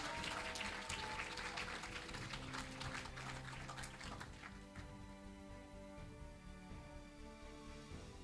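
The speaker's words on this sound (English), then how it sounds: "a huge round of applause for the students in the School of Engineering" Audience applause for students at a vocational and technology faculty awards ceremony, steady and fairly loud at first, then thinning as background hum and faint tones continue.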